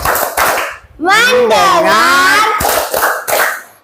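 Children in a classroom ice-breaking game clap a few sharp group claps, then chant together in unison before more clapping follows, loud and close.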